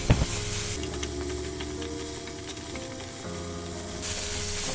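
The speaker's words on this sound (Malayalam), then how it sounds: "2 ടേബിൾ സ്പൂൺ ടൊമാറ്റോ സോസ് നല്ലോണം വഴറ്റി കൊടുക്കാം." Tomato sauce and soy sauce sautéing in a hot pan for cheesy chicken pops, a steady close sizzle with frying crackle and stirring scrapes throughout, no voices.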